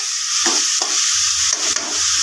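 Chopped onions fry and sizzle in hot oil in a pan for an onion curry, a constant hiss broken by a few scraping stirs of a spoon, close and fairly loud with no talking.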